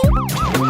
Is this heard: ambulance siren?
yes